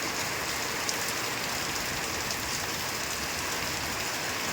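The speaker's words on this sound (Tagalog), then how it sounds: "Naririnig niyo po yung ulan. Medyo may hangin ng konti." Heavy rain pours steadily in Daet with a little wind, a dense, even hiss of drops on surfaces that goes on unbroken.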